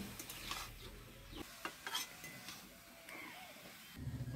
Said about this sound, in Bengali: গাজরটা ভালোভাবে ভেজে নিচ্ছি।